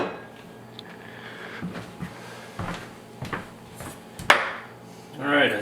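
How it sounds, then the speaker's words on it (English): A knife chopping vegetables on a cutting board for Kung Pao chicken in a series of irregular knocks and thuds, some louder than others, with a brief kitchen clatter near the end. "I zoomed in for the chopping of the veggies"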